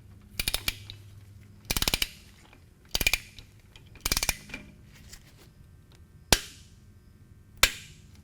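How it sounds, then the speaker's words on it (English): Torque wrench tightening the transmission plug on a Harley-Davidson motorcycle, with four quick bursts of ratcheting clicks followed by two sharp single clicks, close and clear against a quiet background. "You'll want your torque wrench set at 14 to 21 foot-pounds of torque."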